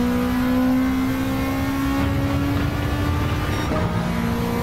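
Toyota AE86 in Gran Turismo 7 holding a steady, strained engine drone through a lap, the pitch dipping slightly and rising again as revs shift near the end.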